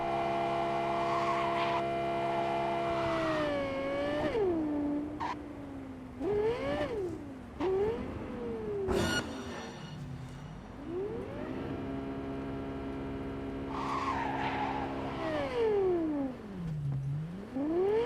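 Car with a blown-out rear tire in Cyberpunk 2077, engine droning steadily throughout while its pitch swoops up and down as the car drives and skids, with a sharp burst partway through.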